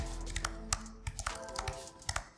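Rapid, crisp key clicks from typing on an Apple Magic Keyboard with numeric keypad, close and fairly loud, in an irregular burst of taps with no talking.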